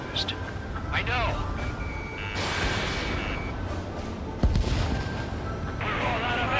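Gunfire and explosive bursts in the Ace Combat 7 video game, several sharp cracks and booms scattered through the clip amid radio chatter and background noise.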